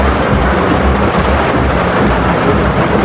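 Heavy rain pours down during a storm on a village road, a dense, loud, unbroken roar with a low rumbling undertone throughout and no voices.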